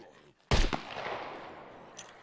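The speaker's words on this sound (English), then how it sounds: "Didn't that sound like a hunting rifle?" A single loud hunting rifle shot cracks out up close in the survival game SCUM, followed by a long fading reverberant tail and a faint later echo, with no talking.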